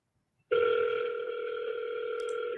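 Outgoing telephone call ring: a single steady electronic ringback tone begins abruptly and holds for about two seconds, clear and alone, with no voices.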